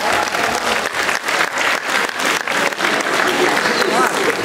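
Audience applause at a university singing contest, hundreds of people clapping steadily and loudly for a contestant, a dense continuous wash of claps with slight swells and no voices.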